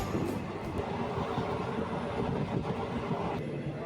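A train on the Angamaly to Nilambur route rumbles along the tracks with steady rattling and clatter, heard from inside a carriage, continuous and moderately loud.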